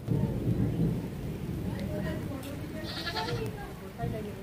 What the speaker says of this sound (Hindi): ये देख सकते हो बारिश हो गई